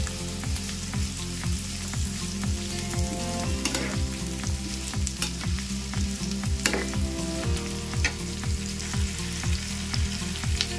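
Green chillies fry in a pan over lowered flame, a steady close sizzle with a regular scraping stir running underneath and a few sharper pops, no voices.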